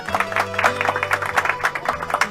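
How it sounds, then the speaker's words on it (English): A studio audience claps on a cooking segment of a radio show in the Liberty City video game, a dense burst of close, steady applause over a faint low hum. "thank you for the clapping"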